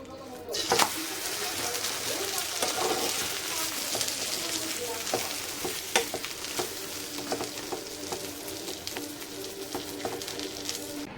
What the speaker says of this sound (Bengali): আর এই যে ডিমের অমলেটটা করছি। এখন পেঁয়াজ দিয়ে, একটু বেশি করে পেঁয়াজ দিয়েছি আর কাঁচা লঙ্কা দিয়েছি